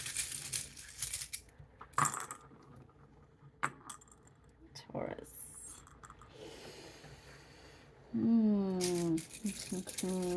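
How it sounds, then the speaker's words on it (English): Tarot cards from a Golden Art Nouveau deck being shuffled and handled up close in scattered bursts of papery slaps and rustles, ending with a short spoken phrase. "I'll be drawing out cards from the Golden Art Nouveau Tarot deck here"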